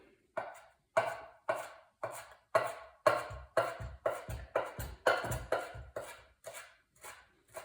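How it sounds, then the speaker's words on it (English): A knife taps steadily on a cutting board, finely chopping carrot tops in an even rhythm of quick, crisp strokes, with no talking. "and then finely chop them. Carrot tops."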